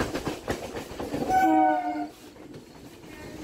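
A BBD Bagh–Sealdah local train on a Kolkata suburban line near Ballygunge Junction rumbles past close by, and its horn gives one loud, sustained blast midway through the passing roar.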